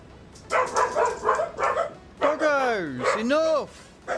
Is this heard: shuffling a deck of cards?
no